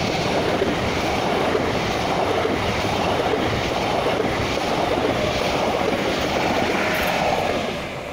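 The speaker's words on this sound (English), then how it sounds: "here comes a locomotive" A PKP Intercity locomotive hauling a new passenger rake passes on a track by a bridge in Wroclaw, Poland, a loud, steady rumble with rail clatter that eases off at the end, with no voices.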